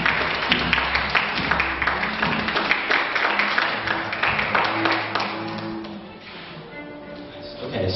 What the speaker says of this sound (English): one more round of applause for Dan